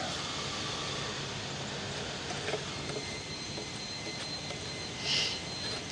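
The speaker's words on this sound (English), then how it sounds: "Gotta love the sound of leaf blowers in the fall." Leaf blowers drone in the distance on a fall day in a backyard, a faint, steady whooshing hum with a brief swell near the end; no one speaks.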